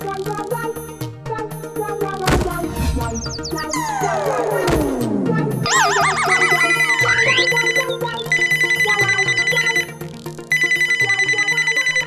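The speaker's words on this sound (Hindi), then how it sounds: "अरे बाप रे, बीवी का फोन आ रहा है।" An animated cartoon mobile phone rings with an incoming call, a loud electronic ringtone with sliding tones and repeating bright melodic phrases that continues throughout, with no talk over it.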